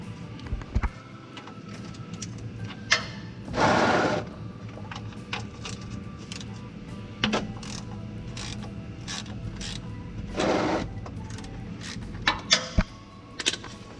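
A ratchet wrench loosens the oil drain plug under a Ford Crown Victoria during an oil change. Sharp mechanical clicks and clacks come in scattered bursts, close and fairly loud, with faint metallic rattles between them.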